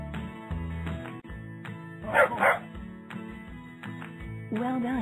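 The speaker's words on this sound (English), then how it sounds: "Dog." Cartoon dog barking in a Baby Hazel carnival video game, a quick yappy double bark in the middle of bright, constant game music.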